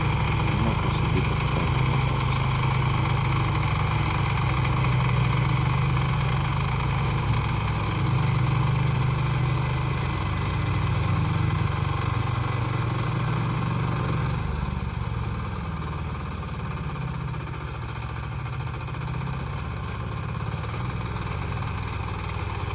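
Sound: articulated mini tractor engine running

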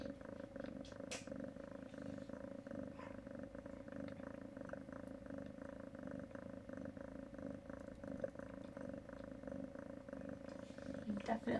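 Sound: rescue cat purring after giving birth

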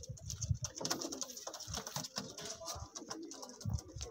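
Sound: pigeons cooing

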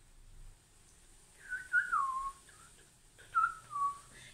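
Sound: voice whistling a samba tune, imitating a vulture

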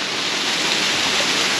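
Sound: waterfall

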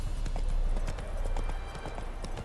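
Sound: horse hooves clip-clopping in Witcher 3 video game

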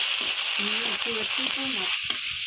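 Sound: frying spice masala in a pan for egg malai curry

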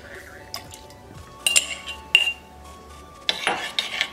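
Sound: stirring a cornstarch slurry in a pot

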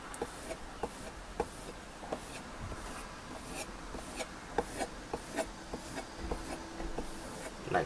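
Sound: knife blade stropped on a leather strop

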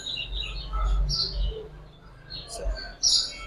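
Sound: pigeon chicks chirping

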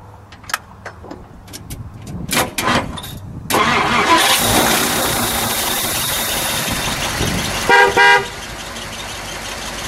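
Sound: 1959 Ford Fairlane 500 Galaxie Skyliner engine starting and horn

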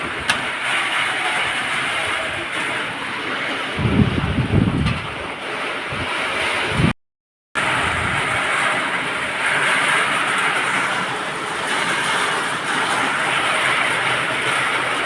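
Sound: heavy rain and stormy wind

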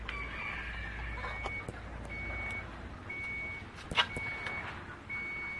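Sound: electricity meter beeping

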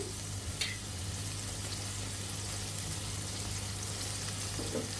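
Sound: mustard okra being sautéed in a pan

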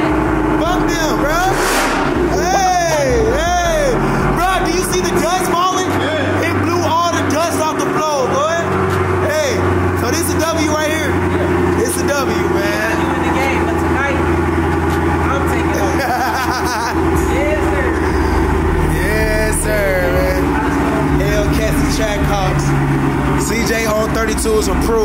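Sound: car engine revving

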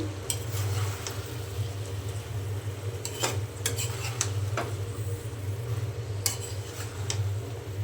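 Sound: bottle gourd and potatoes cooking in a pan

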